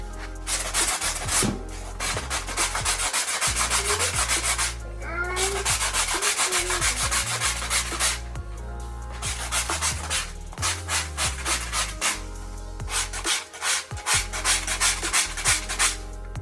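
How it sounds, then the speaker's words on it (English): A drywall patch is hand-sanded with P120 grit sandpaper in long, close, rhythmic scraping strokes, with a few short pauses between bursts and no talk. "you have to sand with P120 grit sandpaper now."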